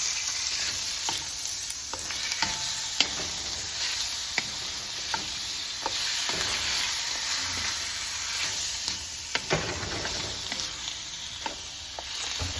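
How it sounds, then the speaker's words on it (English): Chicken sizzles and fries in a pan while being stirred, with a continuous hiss overlaid by scattered scraping and clicking stirring sounds, close and steady throughout. "in the pan here, and I'm just gonna stir it and cook it"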